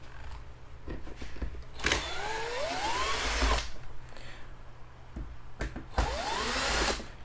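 A power screwdriver backs out screws from a pond pressure filter's UV transformer, several short whirring bursts with rising and falling motor pitch, close up, separated by brief pauses and handling clicks.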